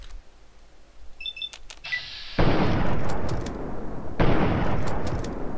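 Gunfire in Fallout 3 (modded) during a fight with Talon Company: a couple of faint clicks and beeps, then two loud, broadband blasts roughly two seconds apart, each trailing into sustained rumbling noise.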